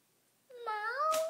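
A child imitates a cat's meow with one quiet, rising and falling nasal wail that is heard alone.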